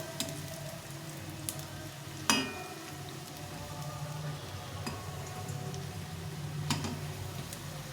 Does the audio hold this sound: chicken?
no